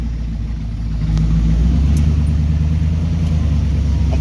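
An Oldsmobile Cutlass G-body pulls up to a dyno shop, its engine a steady, loud low rumble that swells after the first second and holds close by.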